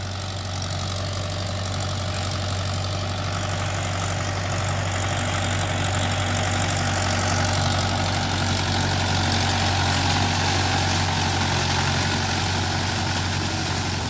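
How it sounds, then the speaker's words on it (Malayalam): A tractor ploughing a field runs with a steady low engine drone and idling rumble, continuous and fairly loud, close by throughout with no talk. "ട്രാക്ടർ വരുന്നുണ്ടോ ഗൈസ്? നിങ്ങൾക്ക് ഞാൻ കാണിച്ചു തരാം."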